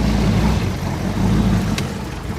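A 1965 Ford Galaxie engine drones steadily close by, a low continuous rumble with slight swells as it drives, low on fuel.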